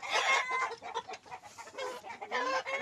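Heritage chickens and three-day-old chicks cluck and peep close by on a Mindanao farm, a busy run of overlapping bird calls with no talking.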